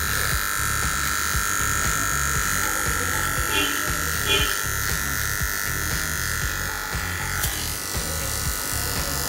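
A Moser Chromini Pro2 professional electric hair trimmer runs continuously with a steady, loud buzzing hum and pulsing low motor tone, close to the microphone, with no talk.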